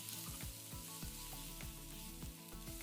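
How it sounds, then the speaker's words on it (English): Lamb shoulder sears skin-side down in a cast-iron potjie pot over a fire, making a quiet continuous sizzling hiss with a low hum and faint regular ticking beneath. "Gonna give that side a lovely sear, skin the side down."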